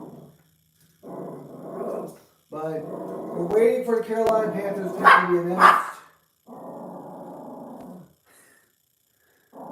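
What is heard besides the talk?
dog growling at the TV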